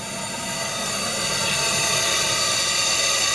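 A Stuart D10 double-cylinder steam engine runs aboard a model steam tug, a dense steady hiss and whir that grows slightly louder and stays even, close and unbroken, with no talking.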